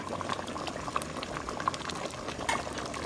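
A pot of bamboo shoot curry boils steadily at close range, with continuous bubbling and soft popping blips throughout and no talking.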